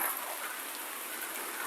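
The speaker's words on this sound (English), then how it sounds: "I am in the rain, guy, in the pouring rain at the Boston Bay Beach" Pouring rain falls at Boston Bay Beach during stormy hurricane-season weather, a steady dense hiss of drops with no voices, close and unbroken throughout.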